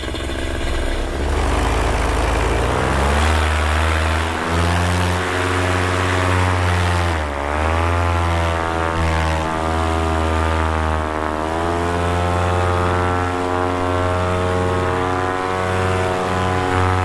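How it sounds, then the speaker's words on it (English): A powered paraglider trike engine on a foggy morning throttles up from idle into a loud, rising propeller drone, with the pitch climbing and holding steady close by. "Arms are out, roll on throttle."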